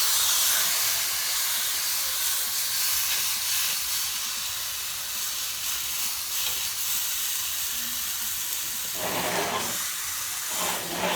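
A roast seared in a pan and turned over to cook the other side gives a steady, moderate sizzling hiss. Louder spitting bursts come near the end, with no voices.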